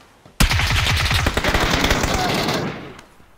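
Rapid bursts of automatic gunfire in a video game, loud and close, rattling continuously for a few seconds after a sharp onset before cutting off.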